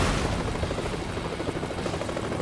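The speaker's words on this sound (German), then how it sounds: "Tatsache, das ist ein Heli." Helicopter in the video game Cannon Fodder 3, a steady rumbling rotor drone holding at a constant loud level throughout.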